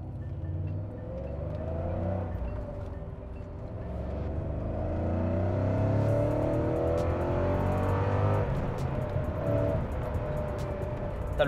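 A Porsche 928 GT V8 engine hums and rises steadily as it accelerates, a deep sustained drone with climbing pitch, close and fairly loud.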